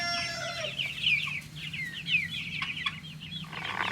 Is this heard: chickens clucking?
yes